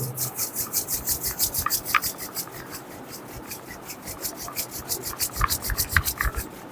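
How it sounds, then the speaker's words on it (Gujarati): Two hands rub briskly together in a rhythmic back-and-forth, a close, dry swishing friction repeated in steady strokes with a brief pause midway. "આપણે સૌથી પહેલાં હાથને નજીક લાવો અને પછી ઘસો."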